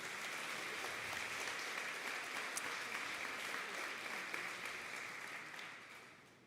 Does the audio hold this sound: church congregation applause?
yes